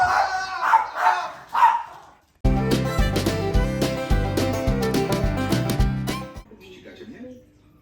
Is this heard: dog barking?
yes